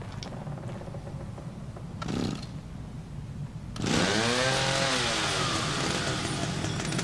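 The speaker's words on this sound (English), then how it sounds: "No way in hell that chainsaw would cut through that." Chainsaw in the horror video game The Evil Within, with quiet ambience and a brief burst before the saw roars to life and revs loudly and continuously, its pitch rising and falling.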